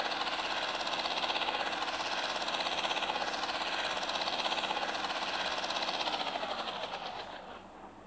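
A helicopter engine in the video game Rage Town drones with a steady, dense mechanical whine, then winds down and fades over the final second as it shuts off.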